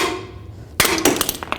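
A hammer taps on the wheel hub bearing of a 2004-08 Nissan Maxima during hub replacement, a sharp metallic strike followed by several lighter, ringing taps in quick succession, close and loud.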